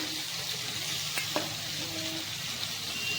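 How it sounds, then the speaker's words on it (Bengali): Pumpkin fries in a pan, giving a steady, moderate sizzle throughout with a couple of faint clinks from stirring, and no one speaking. "চলো কুমড়ো সবজিটা ভাজা করবো"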